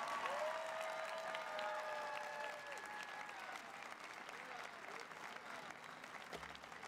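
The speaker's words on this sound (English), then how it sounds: "Let's give all of those people who made this happen" An audience applauds steadily at a university convocation ceremony. The clapping is dense and sustained and fades slightly toward the end.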